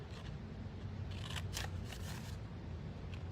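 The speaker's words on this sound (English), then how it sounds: "you're going to take your scissors and you're going to cut up to that 3-inch line" Scissors snip through paper in a few quick, close cuts over a low steady background hiss.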